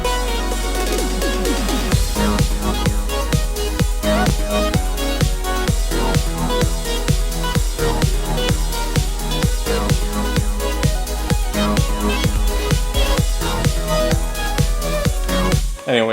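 A disco-style song mix plays back continuously with a steady four-on-the-floor beat, punchy drums and layered instruments, loud and dense throughout and cutting off abruptly at the end, with no talking over it.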